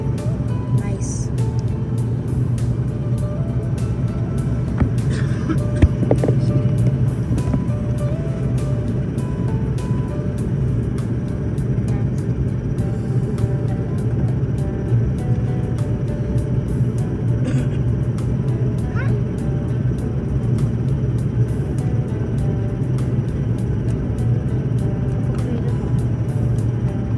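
A propeller aircraft's engine drones steadily and close, a continuous low rumble with an even hum over the whole stretch, and people talk over it.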